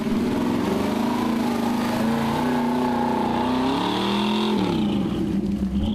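Vehicles churn through mud at Mudfest, a loud continuous engine drone with rising and falling revs, close and sustained without pause.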